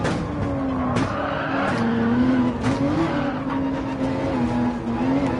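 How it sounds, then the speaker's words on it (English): A Porsche 911 race car in a racing video game drives a narrow track, its engine droning and rising and falling with gear shifts, with tire squeals at corners and no talk. "The 911 is so fast on this track."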